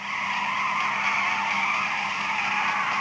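Car drifting in Need for Speed No Limits, a sustained, loud tire squeal over engine roar that holds steady throughout.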